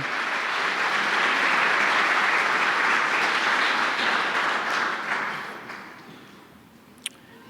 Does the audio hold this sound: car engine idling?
no